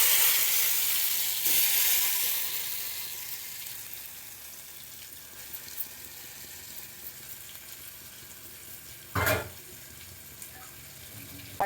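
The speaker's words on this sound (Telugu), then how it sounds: "ఫ్రై చేసుకుంటాం" Potato-stuffed mirchi bajji frying in hot oil gives a steady broadband sizzle, strongest in the opening two seconds, then a softer hiss with one sharp crackling burst near the end.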